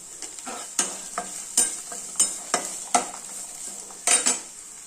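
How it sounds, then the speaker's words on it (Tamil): Dried red chillies fry in a pan for a village-style Tamil chutney, giving a faint steady sizzle broken by repeated sharp clinks of a spoon stirring against the pan, with no voices. "நான் ஒரு ஆறு காஞ்ச மிளகாய் போடுறேன்"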